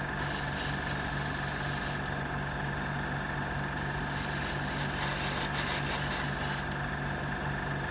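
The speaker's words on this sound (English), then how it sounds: "you need to be careful when you're spraying." A continuous hiss of aerosol spray paint on a 1/6 scale Wonder Woman figure, with the spray cutting out briefly twice between longer steady bursts.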